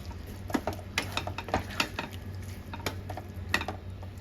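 A spoon stirs a vegetarian soybean curry in a pan with garam masala powder and a little sugar, giving irregular scrapes and light clinks over a steady, close background hiss, with no talking.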